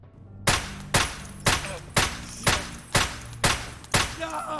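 Seven loud, evenly spaced 7.62x51 rifle shots strike body armor in the shooter game Escape From Tarkov, each a sharp broadband crack followed by a short decaying tail, with no talking.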